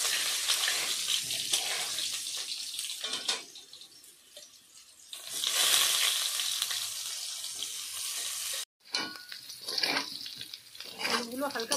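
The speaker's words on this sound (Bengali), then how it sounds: "কড়াইতে সাদা তেল দিয়েছি, এবার এর মধ্যে সেদ্ধ করা আলুগুলো ভেজে নেব" Boiled potatoes fry in white oil in a wok, giving a steady close hiss that fades, swells again, and cuts off abruptly before resuming with clattering sounds.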